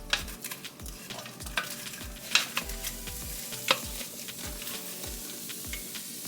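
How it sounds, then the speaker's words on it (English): Half a small cabbage hitting a hot pot for a Jamaican-style cabbage and shrimp dish, with steady sizzling and repeated scraping stirs thumping in a loose rhythm, close and fairly loud, no talking. "now I'm gonna put in the cabbage into the pot."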